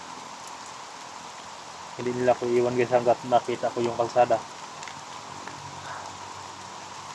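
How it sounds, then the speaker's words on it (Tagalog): Heavy rain pours down as a steady, dense hiss throughout, with someone talking over the middle stretch of the downpour. "Lakas na ulan guys, no?"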